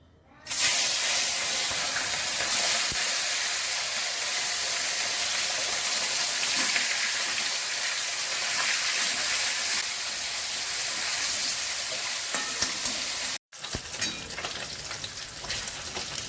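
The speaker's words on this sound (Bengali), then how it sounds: "এটা সর্ষের তেলে হবে। আমি মাছগুলো ভেজে নিচ্ছি।" Rohu fish frying in mustard oil produces a loud, continuous hissing sizzle that holds steady, with one brief break before it resumes slightly quieter.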